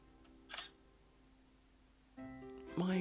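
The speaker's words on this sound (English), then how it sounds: "You just flashed your shutter at us." A camera shutter fires with a brief, odd-sounding mechanical burst, followed later by louder tonal noise and a short voice-like sound. The whole clip is quiet and close.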